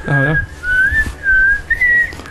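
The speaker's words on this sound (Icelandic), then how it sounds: "Maður getur líka flautað og sérkennilega." A person whistles a short, wavering high melody in a few bright phrases, loud and close, with a brief low vocal sound at the very start.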